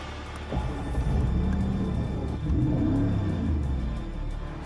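Mercedes-Benz SLR McLaren two-seater engine cranking and firing up, a low rumbling idle that swells with a second revving surge midway, close and steady.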